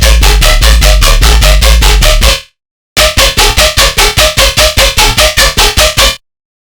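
Heavy tonal synth bass built in Serum, loud, gritty and rhythmic, pulsing in tight repeated stabs, then a short gap before a faster run of chopped hits that stops abruptly.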